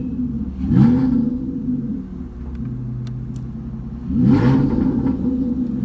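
A 2017 Aston Martin Vanquish S engine revs up twice with rising, throaty exhaust roars as an exhaust valve opens, separated by a steady rumbling idle, close by.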